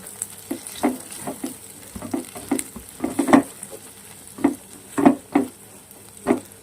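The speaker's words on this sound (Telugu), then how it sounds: "నేనైతే కొంచెం కరివేపాకు వేసుకుంటున్నా" Curry leaves spit and crackle in hot oil in a pan, giving irregular sharp pops and sputters over a low, continuous sizzle at close range.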